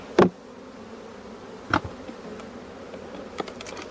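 Italian honey bees at an open hive give a faint, steady buzz in the background, broken by three sharp knocks or clicks spread across the clip.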